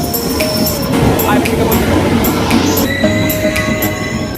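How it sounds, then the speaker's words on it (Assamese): A train arriving rumbles close by with metallic squeals and clinks from the wheels, over a noisy background with voices faintly mixed in. "ফাইনেলি আমাৰ ট্ৰেইন আহি গ'ল"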